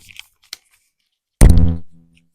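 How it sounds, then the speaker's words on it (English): A few faint clicks, then a loud dull thump with a ringing boom that fades over about half a second. "I think I've just knocked my microphone"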